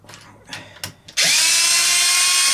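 A power drill spins up sharply after a few light taps and clicks, then whirs loud and steady while backing bolts out of a crashed Traxxas XO-1 RC car's front end.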